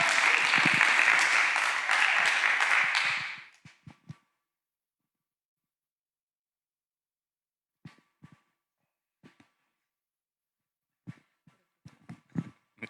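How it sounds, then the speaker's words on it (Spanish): Applause from an audience at a medical congress auditorium in Tungurahua, a dense burst of clapping for about three seconds that stops abruptly, followed by near silence with only a few faint scattered knocks and footsteps. "queramos recibir con ese mismo aplauso cariñoso"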